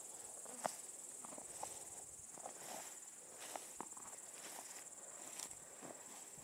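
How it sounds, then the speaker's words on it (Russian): Grasshoppers chirp steadily in an overgrown grassy meadow on a cool, cloudy July day, a continuous high shrill drone with faint scattered clicks and rustles nearby, no talk. "Одни кузнечики стрекочут, слышите?"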